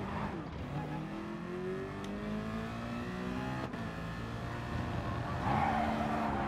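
A race car spinning out in GT Sport, engine revs sweeping up and down as tires squeal and skid through the slide, steady and moderately loud, with a faint voice near the end.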